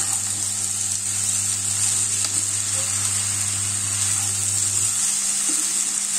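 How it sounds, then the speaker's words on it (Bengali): Chow mein with a spoonful of vinegar sizzles steadily in a hot pan on a Kolkata street-style stove for egg chicken chowmein, a continuous loud frying hiss with a low hum that drops out near the end. "এবার এটা আমি ভালো করে মিশিয়ে দেবো।"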